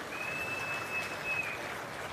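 Applause from an audience at a public meeting, a steady, fairly faint wash of many hands clapping, continuous and without talk over it.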